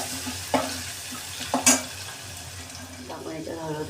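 Ginger and garlic frying in a pan on a slow flame, a soft steady sizzle with a few sharp scraping stirs of a spoon and brief clinks.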